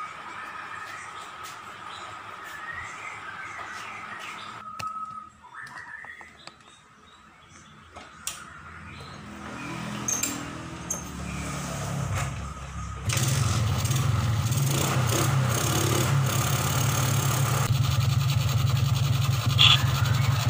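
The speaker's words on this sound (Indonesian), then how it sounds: "Kita akan nyalakan motornya." A Suzuki Smash 110 motorcycle with a sputtering, bogging fault is started; after quieter clicks and shuffling, a steady, loud engine idle rumbles up close and continues without talk.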